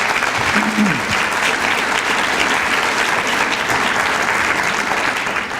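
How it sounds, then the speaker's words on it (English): Steady, dense applause from a large audience at a Junior Achievement 50th anniversary Hall of Fame celebration, honouring volunteers, loud and sustained throughout with no pauses. "let's give a round of applause to all of the volunteers that were recognized tonight"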